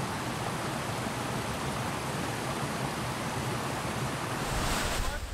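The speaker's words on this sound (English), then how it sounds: "It's a great experience getting right up to the falls." Waterfall in Namibia, a loud, steady broadband rush of pouring water heard up close, continuous throughout and swelling slightly near the end.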